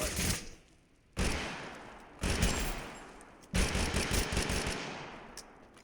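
A marksman rifle fires in the video game Totally Accurate Battlegrounds: loud, rapid volleys of shots that break into several dense bursts separated by brief lulls.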